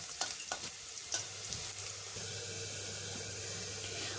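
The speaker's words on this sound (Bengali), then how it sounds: "নুন দিয়ে মাখিয়ে রাখা উচ্ছেগুলো লাল লাল করে ভেজে তুলে নিতে হবে" Salted bitter gourd pieces fry in hot oil for a coconut-milk shukto, giving a steady close sizzle with a few sharp stirring clinks near the start and no voices.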